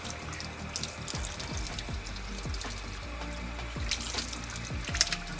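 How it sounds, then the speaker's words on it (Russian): Water runs steadily from a tap, splashing and gurgling as parts of a pH water-filter device are rinsed beneath it, with occasional clinks and no voices. "Просто промываю все под проточной водой."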